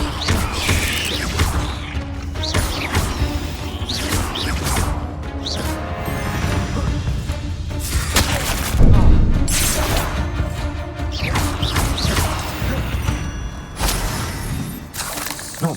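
A Confringo blasting spell cast in a Harry Potter video game, producing loud crashing, shattering explosive bursts with heavy thuds and crackling debris over a busy combat soundscape.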